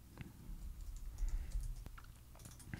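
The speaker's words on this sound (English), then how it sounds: "You'll have to type in your password here." Password being typed on a computer keyboard during home server setup, a brisk run of soft, close key clicks with a few sharper taps.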